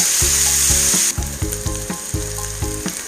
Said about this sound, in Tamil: இப்போ நம்ம ஒரு 2 நிமிஷத்துக்கு இந்த வெங்காயத்தை நல்லா வணக்கி விடலாம்.